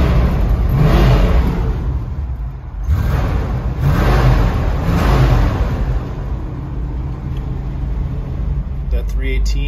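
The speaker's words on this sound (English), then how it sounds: "I want to give you guys a couple revs just so you can listen to the engine" A 1969 Dodge A108 cargo van with a 318 V8 engine, warmed up, is revved twice, each rev swelling into a loud roar and falling back to a deep rumbling idle, close by.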